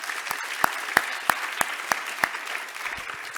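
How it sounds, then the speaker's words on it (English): Audience applause at a 25th anniversary celebration, a thin scattering of separate claps landing in a steady rhythm, fairly quiet and heard alone. "So let's give them a round of applause."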